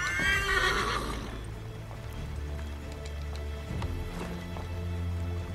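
A horse in Assassin's Creed 3 gives a shrill whinny, followed by steady hoof clip-clops and light background noise.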